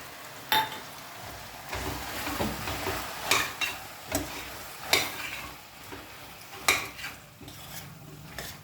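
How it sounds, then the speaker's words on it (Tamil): Mint and coriander being sautéed with masala in oil for vegetable biryani: a running sizzle broken by loud, irregular scrapes and clinks of a ladle against the pan, up close, no voices. "இப்போ இந்த புதினா கொத்தமல்லி எடுத்து வச்சுருக்கிறதுல பாதி போட்டுடலாம். போட்டு நல்லா வதக்கலாம்."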